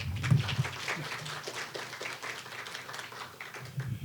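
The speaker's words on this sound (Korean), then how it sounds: "교수님을 큰 박수로 모시겠습니다." Applause from a forum audience in Korea welcoming an honorary professor to the podium, a steady moderate clatter of many hands clapping, continuous and fairly close throughout.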